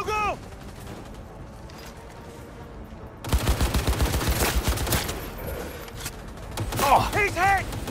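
Rapid automatic gunfire bursts in Cyberpunk 2077 erupt loud and close after a quieter stretch of game ambience, with voices calling out between the volleys.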